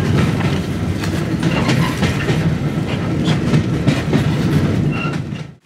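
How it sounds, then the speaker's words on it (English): Busy heritage steam train on the Great Central Railway during a winter steam gala, heard from a crowded corridor: steady rumble with rhythmic clickety-clack of wheels over rail joints, loud and continuous, fading at the end. "we're on a busy train this time"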